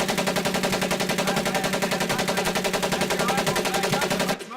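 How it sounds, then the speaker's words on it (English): Tommy gun automatic fire in the Medal of Honor video game, one loud continuous burst of rapid evenly spaced shots lasting several seconds before cutting off abruptly. "Automatic weapons, Private Conlon."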